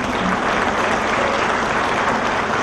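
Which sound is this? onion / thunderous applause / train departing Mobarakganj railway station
thunderous applause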